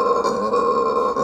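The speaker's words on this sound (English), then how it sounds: "that is the loudest monkey" A howler monkey in Aruba gives a loud, sustained guttural roar, a continuous rasping grunt holding steady for the whole stretch, close and strong with no talking.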